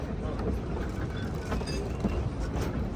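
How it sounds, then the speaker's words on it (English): A Shay geared steam logging locomotive runs on a mountain railroad through the woods, giving a steady, close, continuous rumble with rhythmic clanking wheel and rail noise throughout. "this locomotive was right at home working up here in the woods"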